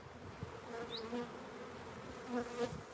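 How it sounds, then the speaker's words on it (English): Honey bees buzz around their hive colonies, a soft continuous droning hum with a few individual bees passing closer, fairly faint outdoors. "So you can see these bees now. Look, they're all flying around not knowing what the heck is going on."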